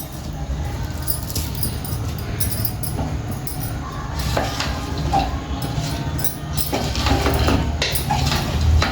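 Cucumber dal ingredients, cucumber pieces with onion and coriander, sizzle and get stirred in a pan, with scraping and clinking of a spoon against metal in irregular bursts over a steady frying hiss.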